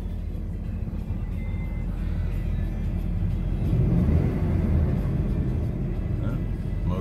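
A 2008 Dodge Ram 1500 SXT pickup truck engine idles steadily with a low, continuous rumble, swelling slightly midway, heard up close with no talking.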